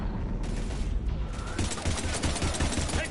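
Rapid gunfire in the video game Mass Effect 3, a dense burst of automatic shots in a combat scene, loud and continuous for most of the moment with sharp impacts layered in.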